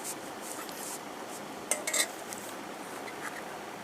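A spoon clinks and scrapes against a cup while cold coffee is stirred, a few light metallic taps clustered midway over a soft, quiet background hiss.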